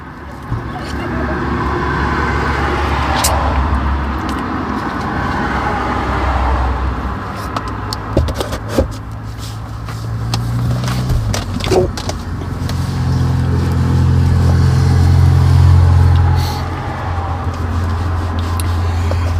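Steady roar of motorway traffic beside the M62, a broad continuous rumble with cars swelling past now and then, a voice faintly talking over it.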